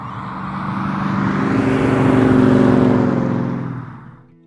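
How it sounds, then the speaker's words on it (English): A 1964 Ford Falcon Sprint V8 swells from a low rumble into a loud, rising rev, then fades off as the car cruises past with its windows down. "Listen to that beautiful V8 noise."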